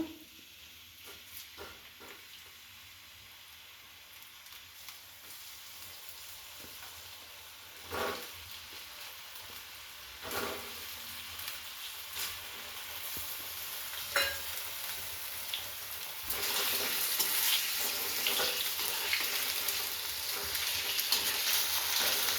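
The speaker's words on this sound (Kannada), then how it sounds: "ನಾನು ಆಲೂಗಡ್ಡೆನ ಎಣ್ಣೆಯಲ್ಲಿ ಫ್ರೈ ಮಾಡ್ಕೊತೀನಿ ಫಸ್ಟು" Thickly cut potatoes frying in mustard oil for a bitter gourd sabji, a low sizzle with occasional stirring clatter that builds into a louder, brighter hiss toward the end, no talking.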